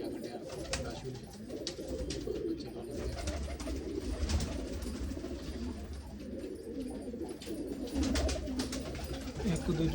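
Fulsara pigeons kept in breeding pairs in a loft coo in a continuous low, rolling murmur from several birds, with occasional sharp clicks and flutters over a steady background.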